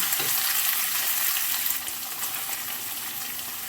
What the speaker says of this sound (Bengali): এবার সর্ষের তেলের মধ্যে পনিরগুলো একটু ভেজে নিচ্ছি